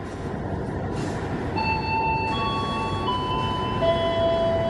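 The Purwojaya passenger train runs with a loud, steady rumble and roar, thin high metallic squeals and whines drifting over it as the wheels grind along the rails.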